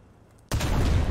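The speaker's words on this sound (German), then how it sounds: "Könntest du mal aufhören, auf mich zu schießen" Cannon fire in War Thunder erupts after half a second of near silence: a sudden loud blast that gives way to sustained, dense booming and rumble through to the end.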